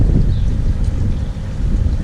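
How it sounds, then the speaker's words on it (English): Wind buffets the microphone beside an outdoor koi pond on a stormy day, a constant close rumble that runs unbroken through the whole moment. "It's been windy all day"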